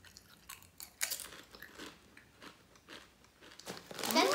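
Trader Joe's chips being bitten and chewed up close, a series of sharp crisp crunches spaced irregularly, ending in a louder burst of crackling.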